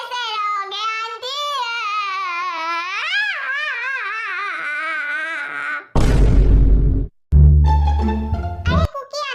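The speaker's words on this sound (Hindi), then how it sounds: "अरे कुकी, अंदर से रोने की आवाज क्यों आ रही है?" Crying heard coming from inside a room: a long, wavering, sobbing wail that rises and falls for several seconds, followed by two sudden loud bursts of noise, in a Hindi-dubbed drama.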